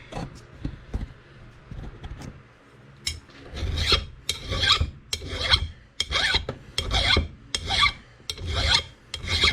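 A coarse file rasps across the bit of an old USGI axe during reconditioning, in steady back-and-forth strokes that start hesitantly, then settle into a close, loud, regular rhythm of about one stroke per second.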